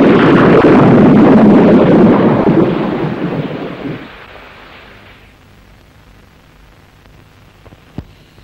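Loud rolling thunder roars through a storm with wind and rain, a heavy rumble that fades over several seconds into a faint hush, with one brief crack near the end.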